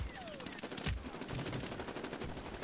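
Gunfire in the shooter game Medal of Honor Warfighter crackles as a quiet, continuous patter of rapid distant shots with a brief louder burst partway through, heard under a low battle ambience.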